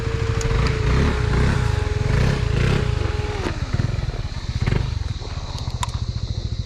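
A Husqvarna Svartpilen 250 motorcycle engine idles with a loud, close throbbing rumble, then is switched off and its pulses slow and die away.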